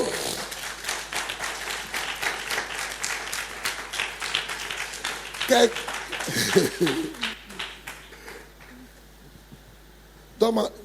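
An audience at a leaders' church seminar applauds in a loud, sustained burst of clapping that fades partway through, with voices talking and calling out over it, and a short final spurt of claps near the end.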